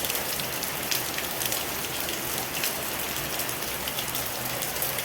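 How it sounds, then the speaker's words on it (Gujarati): Heavy monsoon rain pours steadily over a farm, a dense, even hiss of drops with no pauses and no voices. "વરસાદ ચાલુ થઈ ગયો બધે"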